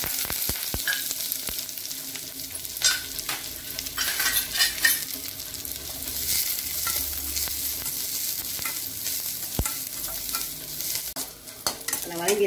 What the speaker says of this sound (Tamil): கடுகு, புளித மிளகாய் போட்டு, பச்சை மிளகாய் போட்டு நல்லா கலந்து